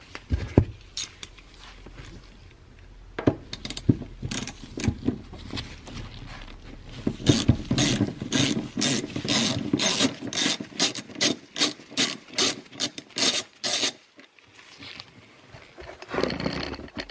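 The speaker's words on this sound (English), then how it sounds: "To take the seat out, what you'll need is a 14 millimeter socket." Ratchet with a 14 mm socket on a long extension backing out seat mounting bolts in a Mazda FD RX-7, heard as rapid rasping clicks in repeated bursts, steady and close, with a brief pause before the final strokes.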